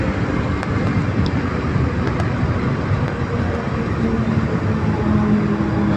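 A 2024 Bajaj Pulsar NS200 200cc motorcycle cruising in fifth gear makes a loud, steady engine drone mixed with rushing wind noise, constant and up close.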